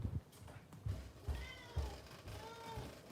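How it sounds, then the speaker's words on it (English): A cat meows repeatedly outside, wanting to come indoors, giving several drawn-out cries at moderate distance with faint background noise between them. "my cat wants to come inside"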